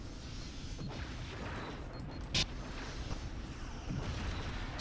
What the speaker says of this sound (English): Something exploded.